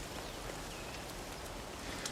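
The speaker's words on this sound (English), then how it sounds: "You can hear the rain in the distance." Rain falls in the distance across a rainforest, a steady, even hiss of drops on leaves that fills the whole moment without pause and without any voices.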